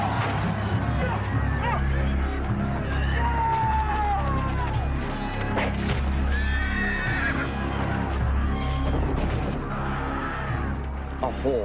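Horse neighing in a noisy battle scene, a few whinnying calls rising out of a dense rumbling din with voices and clamor around it.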